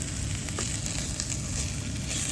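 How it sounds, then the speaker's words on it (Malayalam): Ground coriander and chili powder sizzle steadily in a hot pan while being stirred for a fish chutney, a close, constant hiss with faint scrapes of the spoon. "പച്ചമണം മാറുന്നതും വരെ നമുക്ക് ഇളക്കാം."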